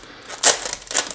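Clicky mechanical keyboard keys pressed in two short bursts, crisp and fairly close, with a quieter patter of keystrokes between and after them.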